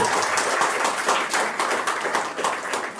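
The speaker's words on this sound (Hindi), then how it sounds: "इसके लिए जोरदार ताली होनी चाहिए।" An audience at a school award ceremony claps steadily, a dense wash of many hands applauding with no talking over it.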